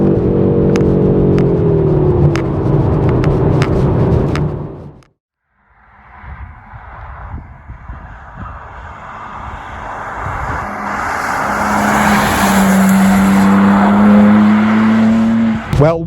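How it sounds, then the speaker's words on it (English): A BMW M2 G87 is driven, its engine note rising and growing louder inside the car as it accelerates, with a steady road rush underneath, after a short pause and some earlier knocks and handling sounds. "So on that note, let's go and drive the BMW"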